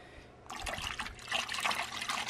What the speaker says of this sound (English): And then you just fill up the rest of the water.